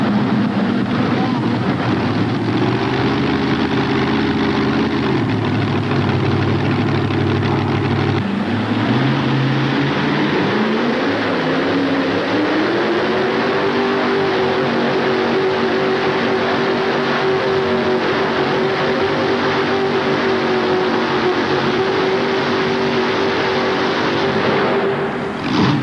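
A twin-Chevrolet-engined pulling vehicle roars continuously at a 1988 National Farm Machinery Show pull. The loud, sustained drone climbs in pitch midway as it digs in, with an announcer's voice partly under the engine.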